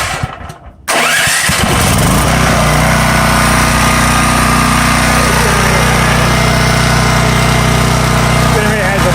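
Portable generator engine, already warm, cranks and catches, then settles into a loud, steady running drone close by with a constant low hum.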